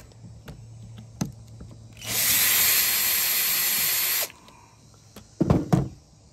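A power tool whirs loudly in one steady burst of about two seconds, close up, removing screws from an ECHO SRM 2620 string trimmer, with light clicks and handling knocks before and after.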